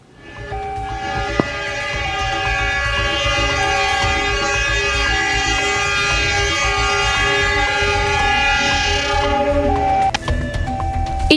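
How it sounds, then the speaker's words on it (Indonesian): A train locomotive passes a railway crossing in Malang, East Java, with a loud, sustained multi-tone horn blast held for around nine seconds over a heavy rumble, then cutting off. "Dalam video tersebut terdengar cukup jelas suara lokomotif"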